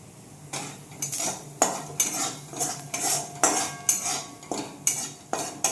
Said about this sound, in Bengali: এবার ডালটা ফোড়ন করছি একটু হলুদ দিয়ে দেবো